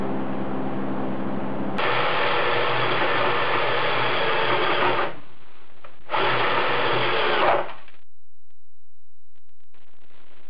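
Hole saw on a power drill cutting through the inner fender of a 1976 Mazda RX-5 Cosmo, a loud steady whine in two sustained bursts about three seconds apart with a brief pause between them, then quiet.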